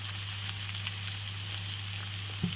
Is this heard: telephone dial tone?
no